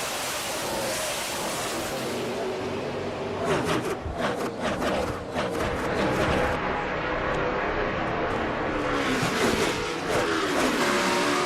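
A pack of stock cars roars away at the start of a race at Williamson County in a racing video game, a dense, continuous engine drone that stays loud throughout.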